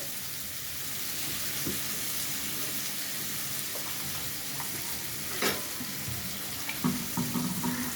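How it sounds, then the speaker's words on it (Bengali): Vegetables cooking in a hot pan with a soft continuous sizzle and occasional stirring; a little water goes in, giving a brief splash and a louder hiss near the end. "এবার একটুখানি অল্প একটু জল দিয়ে দেবো এর মধ্যে"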